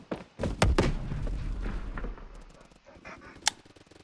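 Battle rifle fire in the online shooter Phantom Forces, a quick cluster of loud close shots followed by rumbling echoes and one more crack near the end.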